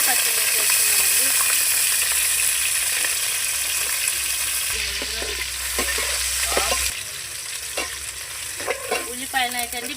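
Onions, green chilies and curry leaves frying in oil make a loud, continuous sizzle close by, with clinks and scrapes of stirring that grow more distinct toward the end.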